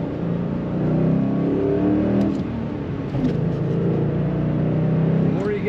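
2008 Ford Mustang Bullitt V8 engine revving as the car drives, a loud, steady drone from inside the cabin that rises slightly and holds high, with road noise beneath.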